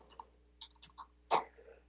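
Typing on a computer keyboard, with a few short bursts of crisp key clicks separated by pauses and ending in a heavier keystroke, close and quiet with no talking.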